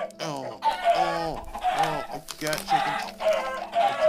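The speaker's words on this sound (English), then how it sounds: "Oh god, these are angry chickens!" Chickens in the Minecraft Crazy Craft modpack cluck and squawk in agitated, repeated bursts, loud and continuous, with someone speaking briefly over them.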